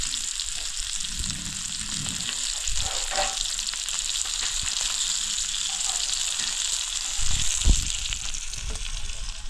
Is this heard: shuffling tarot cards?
no